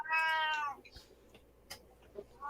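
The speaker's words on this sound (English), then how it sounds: "The cat agrees." A cat gives one drawn-out, falling meow up close, followed by quiet room noise with a few soft clicks and a brief fresh mew starting at the end.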